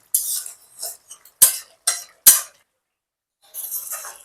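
A spoon scrapes and knocks against a pan while boiled cabbage and potato are stirred together with spices, giving several close, crisp metallic strokes in short bursts separated by brief silences.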